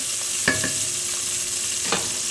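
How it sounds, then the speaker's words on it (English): Bacon sizzling in a pan as the first step of corned beef and cabbage, a steady close hiss broken by two brief spatula scrapes, no voices. "the first thing we're going to do is you want to cook your bacon"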